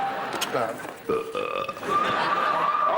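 A long, gurgling belch from a British TV quiz show, rumbling on for a few seconds with noisy studio background and some talk around it.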